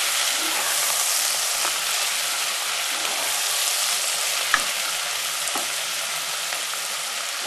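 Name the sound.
Brussels sprouts sizzling and being stirred in pot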